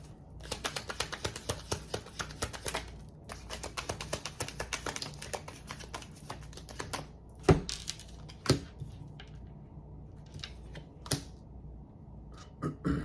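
Tarot cards shuffled by hand during a tarot reading, a quiet run of dense crisp riffling clicks at first, then scattered sharp taps and snaps of the deck further on, with no talk.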